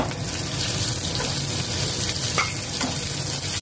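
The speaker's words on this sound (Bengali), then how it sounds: "এবার দিলাম পেঁয়াজ কুচনো।" Chopped onion hits hot oil already seasoned with cumin, five-spice tempering and crushed garlic, producing a loud, continuous close sizzle with faint stirring scrapes that cuts off abruptly at the end.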